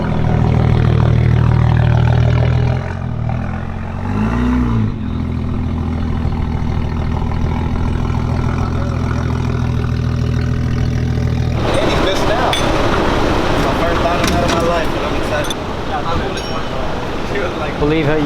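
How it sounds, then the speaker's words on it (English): A turbocharged BMW car engine runs on a dyno, first a loud steady drone that dips and swells, then a harsher, noisier roar for the last several seconds, with people talking over it. "the BMW with a turbo on there"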